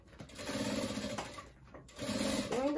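A sewing machine stitches a seam on a thermal bottle holder in short, close bursts of whirring with brief pauses between runs, quiet overall and without talk.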